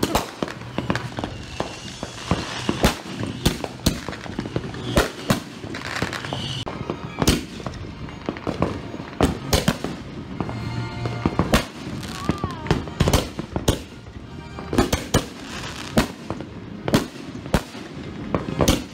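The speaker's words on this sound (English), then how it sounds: "It's that firework rack actually being used." A 24-shot firework rack with fast fusing fires outdoors, loud sharp bangs and cracks popping in rapid irregular volleys, building toward a dense finale, with faint voices now and then.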